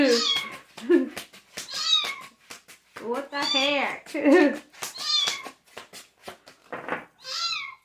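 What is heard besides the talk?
cat meowing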